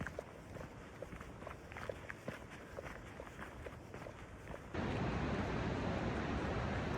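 Footsteps crunch along a hiking trail in the predawn dark on the way toward Half Dome, a steady walking rhythm for several seconds. Then a louder, continuous rushing noise abruptly takes over.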